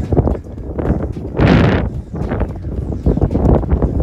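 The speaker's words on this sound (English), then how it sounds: "It's very windy though" Gusty wind buffets the microphone on open hilltops above a lake, with low rumbling bursts and a stronger rushing gust midway.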